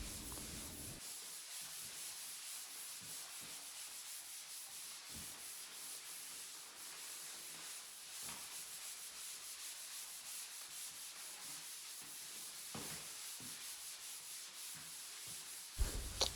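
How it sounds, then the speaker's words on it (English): Drywall compound on a wall being sanded in circles by hand for a skim coat: continuous gritty rubbing and scraping that goes on without a break, close and fairly quiet. "sanding it in circles and rub down your corner"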